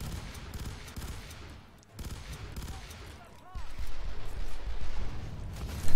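Enemy combat robot gunfire in FEAR 3 pours out as a dense, continuous fusillade, loud rapid bursts with heavy low rumble building toward the end, while players talk faintly underneath.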